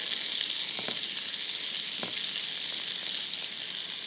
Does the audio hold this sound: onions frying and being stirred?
yes